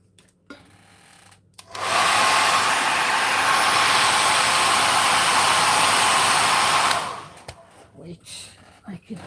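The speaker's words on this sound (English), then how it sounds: "So again, heat tool." Heat gun blowing hot air over coral-toned paint, a steady loud broadband whoosh lasting about five seconds that switches on and off abruptly, with quieter background noise before and after.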